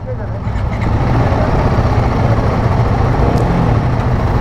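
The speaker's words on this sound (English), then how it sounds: "let's fire up the engine and hear how it sounds" Royal Enfield Himalayan 450 motorcycle engine idling after a start, a loud, steady low rumble that swells in within the first second and holds, with other bikes running nearby.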